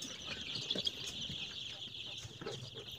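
Young chicks about 13 days old chirp steadily in a poultry coop at feeding time, a dense, faint chorus of cheeping that goes on throughout.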